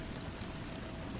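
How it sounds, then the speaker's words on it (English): Rain pattering on a tin roof, a soft, even, continuous patter with no other sound over it. "the sound of rain pattering on a tin roof"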